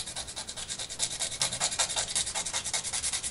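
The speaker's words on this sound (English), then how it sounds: "Next thing I'm going to do is go ahead and sand the tips of these to a point." Sanding the tips of wooden supports to a point for a Wicked Yak 55 model airplane, a steady run of close, rhythmic abrasive rubbing strokes with no talk.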